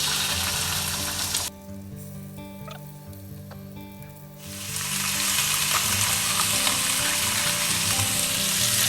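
Marinated chicken, laid skin side down in oil fragrant with ginger, garlic and shallots for three-cup chicken, sizzles loudly and close; the hiss drops away for a few seconds, then returns strong and steady.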